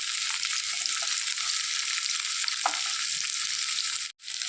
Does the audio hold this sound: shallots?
yes